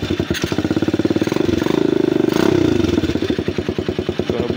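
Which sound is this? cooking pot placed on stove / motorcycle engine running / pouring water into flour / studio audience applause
motorcycle engine running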